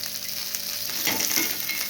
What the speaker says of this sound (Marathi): व्यवस्थित आपण हे भाजून घ्यायचे आपल्या मिरच्या